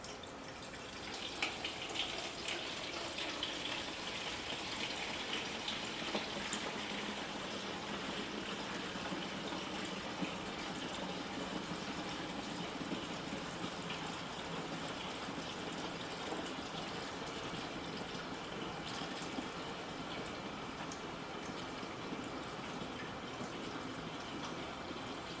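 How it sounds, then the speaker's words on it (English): Water pours steadily into the tank of a 9-litre ultrasonic cool-mist humidifier, a faint, continuous trickling fill that runs unbroken for about twenty-five seconds with no voices. "So let's add the water"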